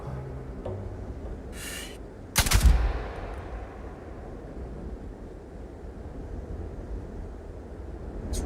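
A single sharp, loud rifle shot in Starfield cracks out over a low ambient rumble, preceded by a short whooshing burst and followed by quiet background hum.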